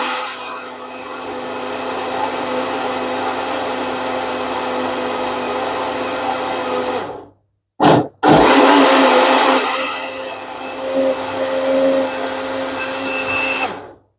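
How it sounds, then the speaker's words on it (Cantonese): A small blender whirs loudly, pureeing corn for cream of corn soup. It runs steadily for about seven seconds, stops for a moment, then starts again and runs until the end. "我哋呢啲機咧，佢唔係嗰啲大機咧，所以咧就要 blend 下停下"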